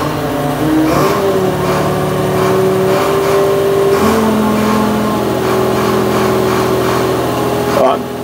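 A heavy crane engine drones steadily and loudly, its pitch rising and shifting as it revs up under load while booming up, continuing throughout.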